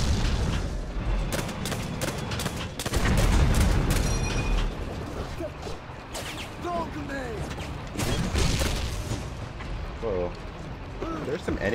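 A loud, booming grenade explosion in a shooter game, followed by bursts of gunfire and mechanical clatter during a boss fight, with a player talking throughout.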